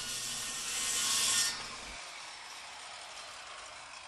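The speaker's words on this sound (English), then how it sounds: "I'm going to line the saw blade up, start the machine and drop it into the cut" A power saw cuts into a rotten wooden door frame, giving a bright, close whirring rasp that swells briefly and then cuts out, leaving a quieter hiss.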